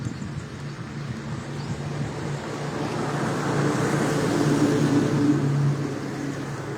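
Highway traffic passes beside a roadside shop and an Eidgah field in Godagari, Rajshahi, a broad, steady rumble that swells as a vehicle draws near and then eases off, with no voices.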